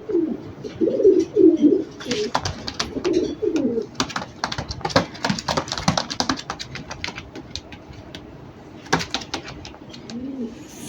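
Racer pigeons cooing close by in soft repeated throaty calls, followed by a run of sharp clicks and taps, loud and without talk.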